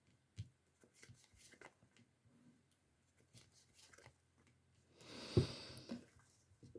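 A brisk burst of cards being shuffled, close and fairly loud, after some quieter handling and rustling.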